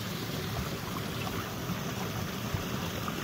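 Water runs and drips over the front edge of a micro hydro pipe intake, a steady close trickling wash with small irregular splashes and drips.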